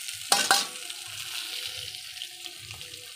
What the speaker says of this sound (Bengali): কিছুক্ষণ নাড়াচাড়া করার পরে এবার আমরা পেঁয়াজ কুচি দিয়ে দেবো।